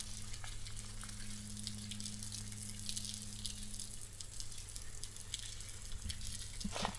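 Water splashing steadily against wet rocks on a river in Big South Fork, a continuous soft hiss and patter with no talking.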